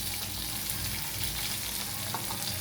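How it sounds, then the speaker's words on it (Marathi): Mustard seeds, cumin and garlic tempering in hot oil for a brinjal bhaji, a steady close crackling sizzle throughout with faint stirring, no voices. "मोहरी व जिरे घालून फोडणी टाकून घ्यायची व त्यानंतर लसूण सुद्धा टाकून फोडणी"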